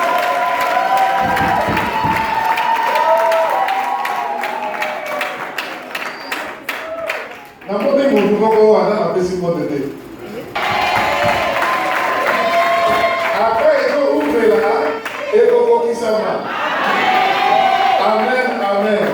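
A church congregation at a Sunday service cheers, shouts and claps in praise, a loud, dense crowd sound that swells and dips, with many voices mixed in throughout.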